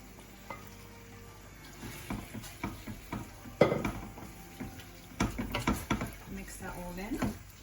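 Vegetables being stirred into a sweet and sour sauce in a pan with cauliflower, a series of scraping and clinking utensil strokes against the pan over a soft sizzle, irregular and close, with some talk in places.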